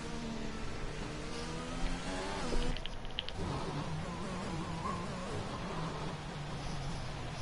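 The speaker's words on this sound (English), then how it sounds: "Weird engine noise bug again." Simulated Formula 1 car engine in a racing video game at the Mexican Grand Prix, a steady buzzing drone with a slightly glitchy, uneven tone running throughout at moderate level.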